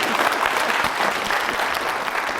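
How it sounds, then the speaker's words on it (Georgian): Sustained studio audience applause at a Georgian TV school quiz show, dense steady clapping filling the whole stretch at even loudness, with no pauses or talk over it. "ეს აპლოდისმენტები მამას."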